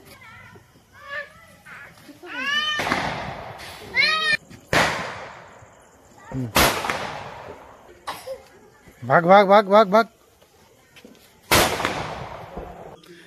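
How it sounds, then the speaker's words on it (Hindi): Diwali firecrackers burst in several sharp, loud bangs at irregular intervals, some with crackling tails, while people talk and shout excitedly between the blasts. "फिलहाल पटाखा तो फोड़ चुके हैं"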